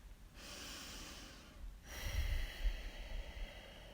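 Deep breaths drawn during standing yoga side bends: a long airy exhale, a brief pause, then a louder, rougher breath with a snort-like push, close and steady with no talking.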